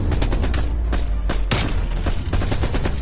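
AK rifle fire in a PS4 shooter game, loud rapid bursts of shots crackling almost nonstop, with a few sharper single reports standing out.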